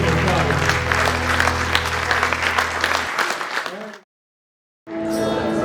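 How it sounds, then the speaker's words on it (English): A wedding reception crowd applauds loudly for a few seconds, dense clapping with some cheering, then it drops to silence before music starts. "Let's hear it for Toby."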